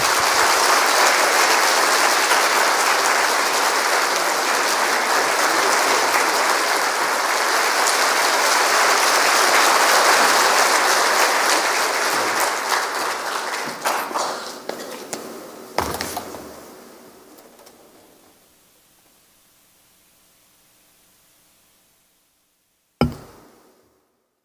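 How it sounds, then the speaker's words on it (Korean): Warm applause from a church congregation greeting a guest preacher at a special evening revival service, loud and sustained, then tapering off into quiet before a single sharp knock near the end. "우리 나오실 때 뜨거운 박수로 맞이하겠습니다"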